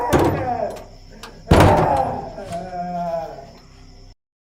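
A door is forced open with two loud, close thuds and rattling, the second bang heavier, while voices shout nearby.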